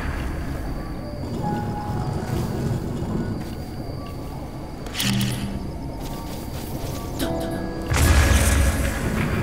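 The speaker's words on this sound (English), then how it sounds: "Let's blow that bomb up first." A bomb exploding in the video game Zelda: Breath of the Wild, a few deep booming bursts over a rumbling game soundtrack, the loudest blast near the end.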